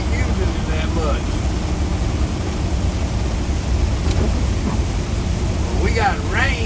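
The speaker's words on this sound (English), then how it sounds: "We got rain coming down." Rain drums on a moving RV driving along interstate I-75, a continuous low road rumble and wet hiss filling the cab, with faint whooshes of passing vehicles near the end.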